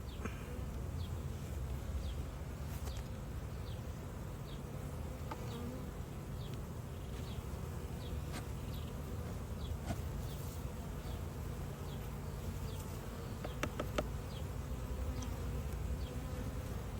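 A steady, close swarm of honey bees buzzes throughout a beehive inspection, with a continuous low hum and a few louder passes of single bees near the listener. No voices are heard.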